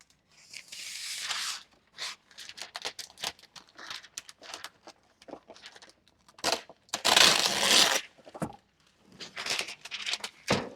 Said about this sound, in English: I'm going to get some parchment to go in my sheet pan.